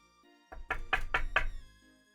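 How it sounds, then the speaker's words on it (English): A knock on a door in a Pokémon Mystery Dungeon: Rise of the Guildmasters tabletop session: four sharp, evenly spaced raps close by, alone over a faint hum. "You hear a knock on the door."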